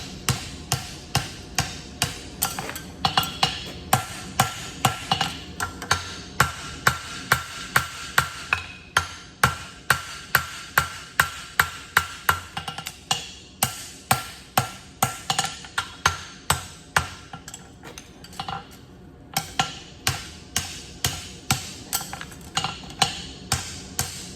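Steady, ringing hammer blows on a horseshoe against an anvil, struck in fast regular runs of many close, loud metallic strikes with brief pauses between bursts, shaping a straight bar shoe with reverse heel checks.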